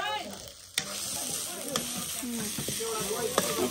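Meat frying and sizzling in a pan with occasional stirring scrapes, a steady close hiss that runs throughout with a few sharp clicks, and no talking.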